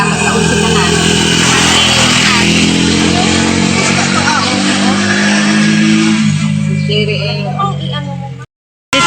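A jeep engine runs loud and steady in Mindoro, its low drone rumbling continuously with some revving, while voices talk over it before it cuts off abruptly near the end.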